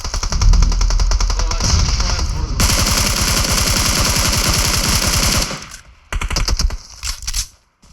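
Automatic gunfire in the mobile battle-royale game PUBG Mobile rattles in long, loud, rapid bursts, then breaks off into shorter volleys.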